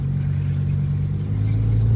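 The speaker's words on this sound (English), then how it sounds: "So this car does have the Soul Performance exhaust, which is absolutely insane." Lamborghini Huracan Evo fitted with a Soul Performance exhaust, in sport mode, holding a deep, steady engine drone close by, with a strong low rumble running unbroken throughout.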